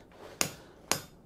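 A hammer strikes a forge-welded steel tee weld twice, half a second apart, each blow a sharp, close metallic clang ringing out over quiet.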